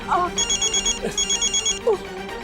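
A telephone rings in a home during a family comedy scene, sounding as a repeating electronic trill in two pulsed bursts with a brief voice sound between them.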